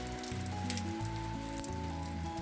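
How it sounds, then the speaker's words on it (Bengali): Steady rain pattering on a surface on a rainy winter day, a dense, even hiss of drops that runs throughout, with sustained tonal notes layered over it. "এই বৃষ্টির যে রিমঝিম শব্দ, এটা আমার খুব পছন্দ"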